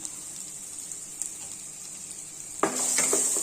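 Curry leaves are dropped into a pan of cooking vegetable semiya upma and burst into a sudden loud sizzle near the end, after a quiet, steady background hiss.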